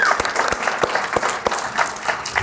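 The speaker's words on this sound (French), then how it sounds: "Une bonne main d'applaudissements à tout le monde." Audience applause at a Star Wars fandom podcast taping, a dense burst of clapping from a small group, fairly close and steady throughout.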